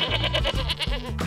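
A goat bleats in a series of close, loud, wavering cries that fill the whole short stretch with no talk over them.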